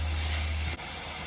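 Chopped onions and garlic hit a hot pan with a steady, bright sizzle and hiss that drops off abruptly partway through, close and fairly loud with no voices.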